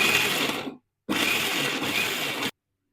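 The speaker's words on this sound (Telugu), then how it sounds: "మిక్సీ జార్లోకి ట్రాన్స్ఫర్ చేసుకొని ఫైన్ పేస్ట్గా గ్రైండ్ చేసుకోవాలి" A mixer grinder whirs loudly and steadily while grinding coriander into a fine paste, running in two bursts separated by a brief pause, then stopping abruptly.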